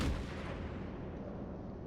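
Naval gunfire in a war video game, a dense, sustained low rumble of cannon shots at a ship, steady and loud across the whole moment with no voices.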